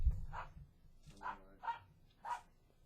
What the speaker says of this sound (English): Dog wants in.